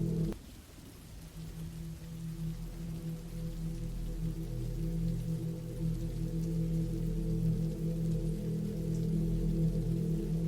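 Rain falls in a continuous soft patter over a low, steady hum, quiet and even throughout, with no speech.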